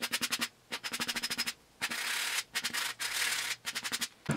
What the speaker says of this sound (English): but I'll get that off with the sanding.